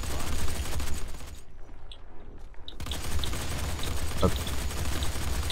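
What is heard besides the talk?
assault rifle firing in the video game Doom 4 beta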